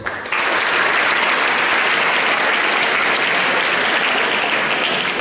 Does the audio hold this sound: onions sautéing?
no